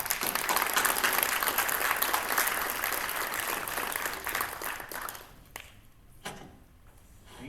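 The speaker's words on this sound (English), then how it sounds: "So let's give them a round of applause." An audience at a cybersecurity leadership panel claps for the speakers, dense applause at full strength that thins and fades out in the last couple of seconds.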